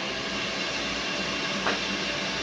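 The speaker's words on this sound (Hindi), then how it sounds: "मिक्सी में पीसा जा रहा है कुछ" A steady whirring motor drone of a mixer grinder running in the background, constant and somewhat distant, with no speech.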